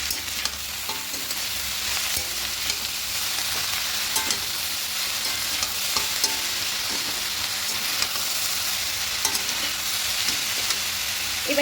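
Greens and potatoes with turmeric powder fry in a pan under a bright, constant sizzle, broken by occasional soft scrapes and taps of stirring, close up with no speech.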